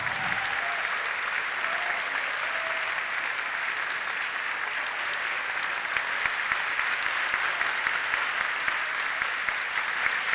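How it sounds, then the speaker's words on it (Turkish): Sustained audience applause at a Turkish folk dance contest award ceremony, a dense steady clapping crowd filling the space for the whole stretch without letup. "Alkışlarınız devam ediyor çünkü birincilik sırasını alkışlıyorsunuz."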